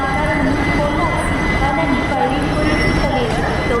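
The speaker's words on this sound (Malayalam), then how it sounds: "നമ്മുടെ ട്രെയിനിൻ്റെ ആദ്യത്തെ സ്റ്റോപ്പായ പാലക്കാട് ടൗൺ റെയിൽവേ സ്റ്റേഷനിലാണ്" A train stands at Palakkad Town railway station with a loud, steady rumble and hum of rail noise, and faint metallic squeals rise over it, close and continuous.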